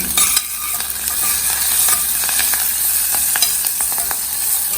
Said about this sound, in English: Stir it nicely, it should crackle really well.